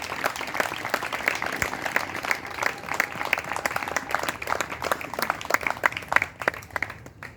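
A congregation claps steadily and rhythmically during a church worship service, a dense, continuous round of hand claps from a large group, with faint voices beneath.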